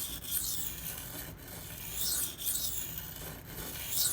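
A Spyderco PM2 knife with a Maxamet steel blade is stroked across a 1K Gritomatic sharpening stone. Soft rasping strokes repeat about once a second, close and fairly quiet, with no voices.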